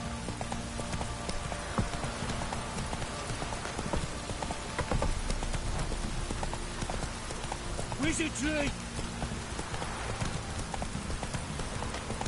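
Roach the horse gallops in The Witcher 3, a steady clip-clop of hooves under a heavy rain downpour, with a voice speaking briefly over it.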